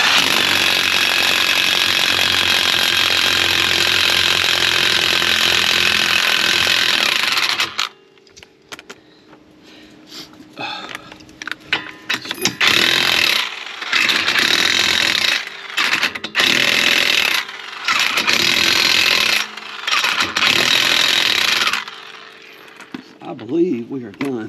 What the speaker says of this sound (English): I believe we are done with the impact wrench